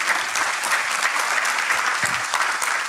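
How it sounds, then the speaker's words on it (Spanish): Audience applause at a municipal good-practices congress panel: a full room clapping loudly and steadily throughout, close and continuous, with no speech over it. "Una vez más el aplauso para él entonces."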